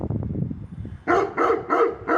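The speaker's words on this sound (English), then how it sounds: "The dogs are on the corner, that's why they're barking." Dogs on a street corner bark in four loud, evenly spaced woofs after a stretch of lower muffled noise, fairly close and with no talk over them.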